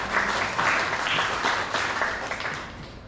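An audience at a casual community gathering applauds during an anniversary announcement, with a brief burst of many hands clapping that is steady at first and then slowly tapers off.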